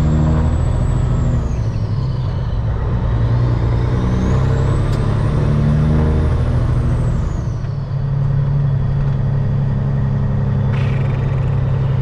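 Peterbilt 379 truck driving past a building toward the main entrance, a loud deep engine rumble heard from inside the cab with a hissing air-brake release and shifting engine tone as it maneuvers.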